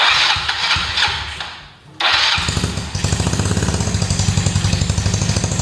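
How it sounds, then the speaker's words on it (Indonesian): Motorcycle engine cranks with a short starter whir, stalls briefly, then catches and settles into a steady, loud, close idle with rapid even pulses, during work on fitting a running LED brake light. "Terus kita hidupkan mesinnya teman-teman."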